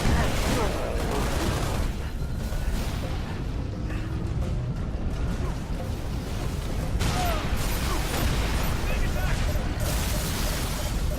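Gunfire and explosions from a Halo Reach battle at Sword Base fill the scene, a constant dense rumble of shots and blasts with radio voices talking over it.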